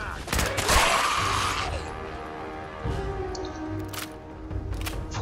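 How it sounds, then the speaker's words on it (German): Gunfire in the video game Fallout 4: a dense burst of sharp shots at the start, followed by scattered single cracks over a steady low background. "Ich höre nicht nur, ich sehe sogar Schüsse."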